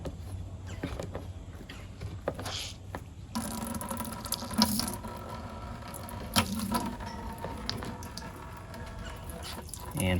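A hand siphon pump draws gasoline out of a jet ski, a few squeezes giving soft liquid gurgles and sloshing with scattered knocks and handling noises, close and moderately loud, with a voice faintly present.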